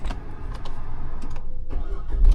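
A Tata Nexon's engine cranks and catches in a short burst, close and fairly loud, over the whoosh of a running blower.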